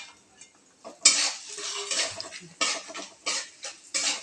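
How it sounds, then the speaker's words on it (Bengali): Peanuts are tipped into a pan and stirred for a pulao made from leftover rice, producing a rattling clatter followed by irregular scraping and rattling bursts of a spoon against the pan. "এবার এদিকে এর মধ্যে দিয়ে দিচ্ছি আমি চিনে বাদাম"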